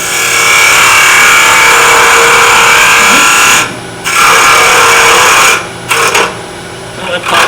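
A wood lathe spins a small buckeye burl miniature vase, giving a loud, steady whirring hum that cuts out briefly twice, with a bit of talk.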